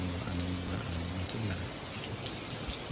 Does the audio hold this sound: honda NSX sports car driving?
no